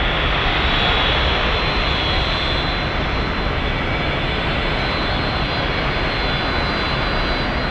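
A jet airliner beginning its takeoff roll at San Francisco International Airport, a loud continuous engine roar with a thin high whine, staying strong and even throughout with no talk.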